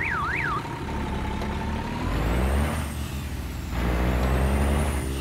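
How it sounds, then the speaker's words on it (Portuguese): Euro Truck Simulator 2 with a realistic Brazilian truck sound pack: a diesel truck engine drones while a gear change brings a sharp pneumatic hiss and a shift in engine pitch, loud and close, with no talking. "Dá pra ouvir também a passada de marcha."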